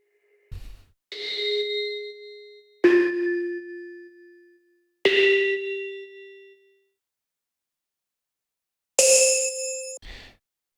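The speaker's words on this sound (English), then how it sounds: "So this was made using a Krockhausen preset, wavetable preset." A ghostly wavetable synth preset from Ableton plays alone as four separate bell-like tones, each fading slowly, with a short low thump at the start and another at the end.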